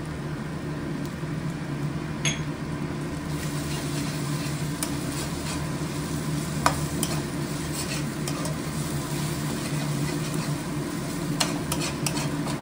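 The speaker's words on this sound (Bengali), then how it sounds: "এরপর 2 চা চামচ কাশ্মীরি লঙ্কার গুঁড়ো দিয়ে নেড়ে নিতে হবে।" A spoon stirs ginger-garlic paste, onion and Kashmiri chili powder in a pan over a steady low sizzle, with occasional light scrapes and taps of the utensil against the metal; no voices.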